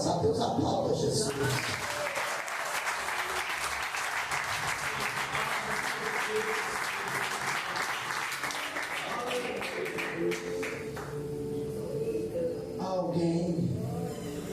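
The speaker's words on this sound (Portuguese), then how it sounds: "aplauda Jesus" A church congregation claps in sustained applause to praise Jesus at a revival congress, the dense clapping continuing for several seconds with voices mixed in.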